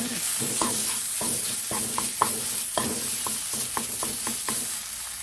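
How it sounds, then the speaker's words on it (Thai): Pork cartilage stir-fried in a hot pan, with constant loud sizzling and a spatula scraping and clacking in a repeating stirring rhythm, close up and with no talk. "ใส่หมูลงไปนะคะคั่วลงไปให้หอมเลยนะคะ"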